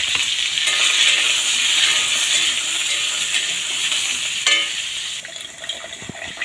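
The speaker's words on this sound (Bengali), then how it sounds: "কড়াই তেল দিয়ে দিয়েছি, আমি কপির তরকারি করব। কপিগুলো আমি কড়াই দিয়ে দিচ্ছি।" Cauliflower pieces fry in hot oil in a wok, a loud continuous crackling hiss close by that eases slightly near the end, with a few faint clicks and no voices.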